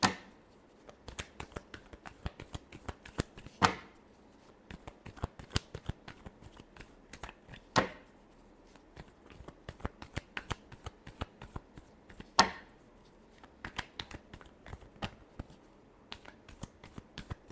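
Tarot cards being shuffled by hand, a quiet series of crisp riffles and flicks with sharper slaps every few seconds, close and otherwise silent.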